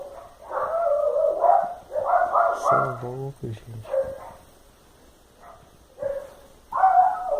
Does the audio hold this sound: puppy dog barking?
yes